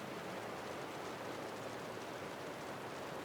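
Steady rain falls in the video game Wuthering Waves, a constant, even hiss of dense downpour that holds at the same level throughout, with no voices over it.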